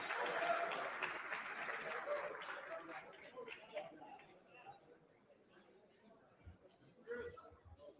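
Audience clapping for second place net winners at an awards presentation, moderate applause that fades out with scattered chatter and a dog barking nearby.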